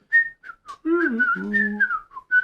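Whistling of a short melody, several clear notes in bursts and glides, close and fairly loud, with brief pauses between phrases.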